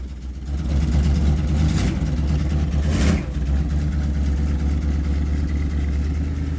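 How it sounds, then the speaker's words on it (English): A 1973 Dodge D200 pickup with a 360 V8 and 727 automatic idles rough and rich, with belt and valvetrain noise. The loud, close rumble runs steadily and surges briefly twice, with no voices. "It's running really rich and kind of a sporadic idle."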